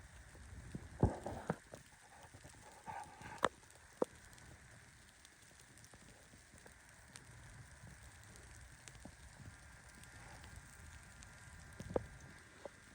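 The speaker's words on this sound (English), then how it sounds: "It's so cold that the snow freezes, and it's like little tiny chunks of hail hitting the roof of the tent." Frozen snow chunks pattering on a tent roof on a cold winter camping night: faint, scattered ticks and taps over a quiet hiss, with a few sharper hits now and then.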